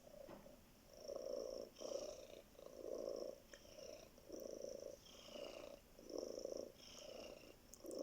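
A sleeping cat purrs close by in slow, even cycles, each rumbling breath in and out clearly separated by short pauses, with no voices over it.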